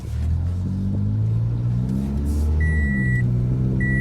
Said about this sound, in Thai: เครื่องสตาร์ททีเดียวติดเลยนะครับคันนี้